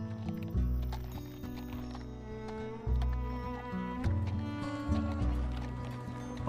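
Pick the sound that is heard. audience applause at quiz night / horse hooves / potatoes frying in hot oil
horse hooves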